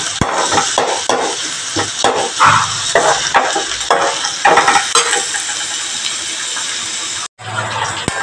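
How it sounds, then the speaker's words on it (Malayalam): Onions sautéing in a pan, loud sizzling broken by repeated rhythmic stirring scrapes and clinks of a utensil against the pan, with a brief drop to near silence near the end. "നമുക്ക് ഇങ്ങനെ ഇളക്കി കൊടുക്കാം. നന്നായി വഴഞ്ഞ് കൊടുക്കാം."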